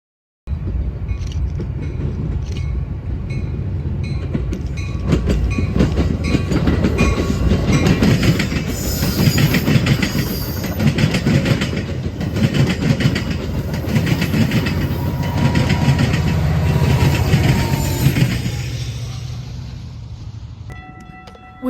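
A CPKC freight train led by locomotives passes near, wheels clicking rhythmically over rail joints under a loud rolling rumble that builds, holds, then fades as the cars go by.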